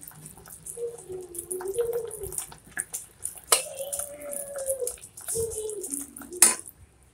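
Peanut chikki jaggery syrup stirred in an iron kadhai, a spoon scraping and clinking against the metal in uneven strokes with a few sharp knocks, close up and without speech.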